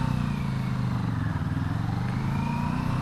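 CFMOTO 650NK motorcycle pulling away on a hill start using only the clutch, its parallel-twin engine giving a steady, moderately close low rumble over a few seconds with light road and wind noise.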